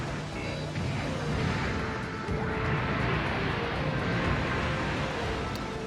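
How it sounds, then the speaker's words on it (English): Cannons fire in the Mobile Suit Gundam: Journey to Jaburo video game, dense booming blasts and rumbling explosions rolling continuously at close range with no pause. "don't get in front of these cannons, like within their range to fire"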